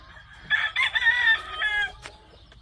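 A gamefowl rooster crows once in a brood pen for Mell brown red birds on a Hawaiian farm, a loud, close, drawn-out call of about one and a half seconds, followed by a short cluck.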